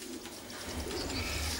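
Pigeons cooing in a breeding loft, a low rolling coo repeated close by over steady background noise, with softer bird sounds higher up.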